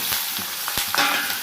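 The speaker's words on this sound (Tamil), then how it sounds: "இப்போ ஆனியன் போட வேண்டியதுதான். சவுண்டு பாருங்கள், இந்த சவுண்டு தாங்க சமையலுக்கு நல்லா" Onion and mustard seeds sizzle and fry in a hot pan while upma is prepared, a close, steady crackling hiss with small pops and no talking.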